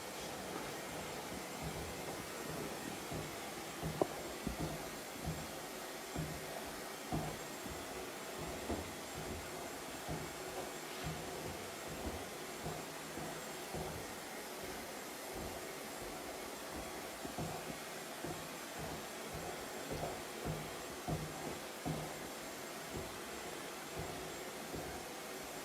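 A hair dryer blows steadily while hair is being dried during a modern mullet haircut. The roar is close and continuous, with rhythmic flutters as the airflow shifts and the brush passes through the hair.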